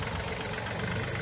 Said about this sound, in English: Got to use the tractor to set these posts.